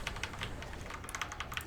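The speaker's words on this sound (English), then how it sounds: "Oh, that double clicking right there, just randomly quadruple clicked." Rapid plastic clicks of a computer mouse and keys during a World of Warcraft Icecrown Citadel raid, in quick bursts including a double and a quadruple click, close and fairly faint.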